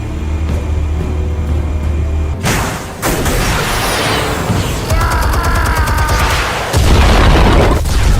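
Explosives detonating in a Batman video game: a series of heavy booms and crackling blasts with rumbling debris, loud and close, following a low droning background hum; no talk.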